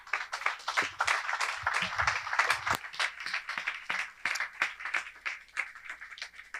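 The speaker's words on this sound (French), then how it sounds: "Oh, acclame fort." A church congregation claps and cheers, with steady rapid hand-clapping and raised voices sustained throughout, lively and fairly close.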